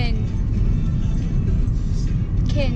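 Steady low road rumble from inside a car driving a long distance, a constant engine and tire drone heard from the cabin, with a voice speaking over it.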